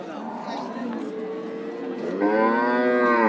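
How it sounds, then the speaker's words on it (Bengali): An Australian breed cow at a busy cattle market in Rajshahi lets out a long, loud, close moo that rises in strength toward the end, while crowd chatter and voices carry on in the background. "সামনে দেখতে পাচ্ছেন একটা অস্ট্রেলিয়ান জাতের গরু ধরে আছেন একজন"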